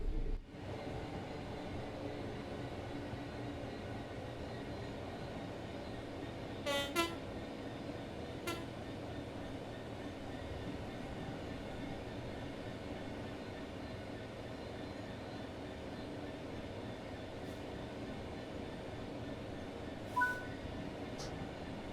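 Train running in Train Sim World 4 on the Edinburgh to Glasgow route, a steady low rumble and hum sustained throughout, with a few brief horn-like tones about a third of the way in and again near the end.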